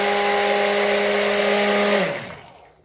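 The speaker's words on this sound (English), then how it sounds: "Burp, burp, burp the blender." A blender whirs steadily at high speed while mixing soap batter for raspberry soap, a bright sustained motor whine for about two seconds before it cuts off and winds down to silence.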